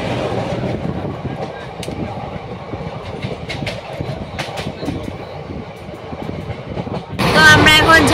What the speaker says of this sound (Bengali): তো আমরা এখন ঝাঁঝা থেকে ট্রেন ছেড়ে দিয়েছে